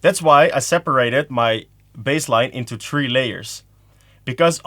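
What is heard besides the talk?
None of the usual background noises is heard.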